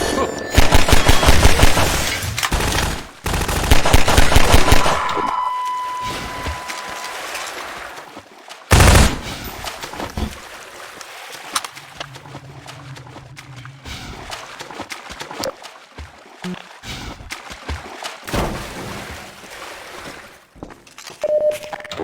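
Loud bursts of gunfire in the video game Half-Life 2, dense rapid volleys at the start easing into scattered shots and mechanical clatter, with a single sharp blast midway.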